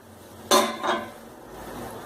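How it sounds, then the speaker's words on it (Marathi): A metal lid being lifted off an appe pan while rava appe cook. There is a sharp close clank, a second softer clatter moments later, then a quiet kitchen background. "आता 3 ते 4 मिनिटांनंतर झाकण काढून बघायचं."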